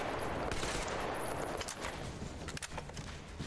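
Dense, continuous gunfire from the video game Metro Exodus, a loud, steady rattle of shots filling the whole stretch with no pauses.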